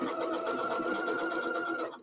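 A sewing machine runs a steady, continuous stitch along a shopping bag seam, going over it a second time for strength, its fast even whir close and unbroken for about two seconds.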